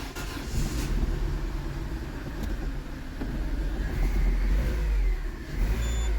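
A car engine freshly repaired with a new head gasket, timing and clutch idles and revs steadily close by, a low continuous rumble that swells a little louder toward the end, with no voices.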